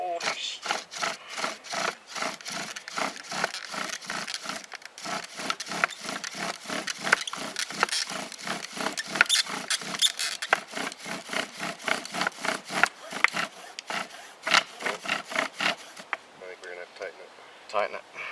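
A wooden bow drill is worked for friction fire-making outdoors, making a fast rhythmic rasping of repeated back-and-forth strokes that continues for over fifteen seconds before stopping.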